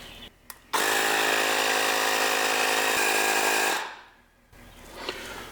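A Ryobi tire inflator runs loud and steady for about three seconds with a constant droning compressor whine, then shuts off and winds down into near quiet.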